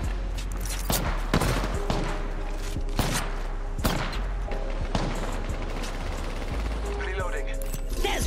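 Steady gunfire from the video game Apex Legends, with sharp repeated shots and bursts over a dense, constant game soundscape.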